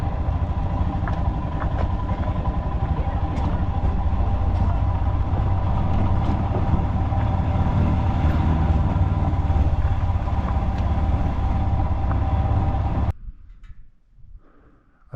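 A motorcycle engine runs steadily and loudly up close on a remote road in a Tibetan area of India, a constant rumbling drone that cuts off abruptly near the end, leaving quiet.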